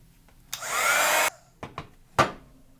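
A heat gun blows a steady, loud whooshing stream of hot air for under a second while melting embossing powder on a butterfly card, followed by a few short tapping knocks nearby.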